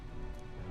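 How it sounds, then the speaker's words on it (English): Steady rain patters down in a storm at sea aboard a vessel in Metaphor: ReFantazio, a dense, even hiss of drops with no break and no voices. "What terrible rain."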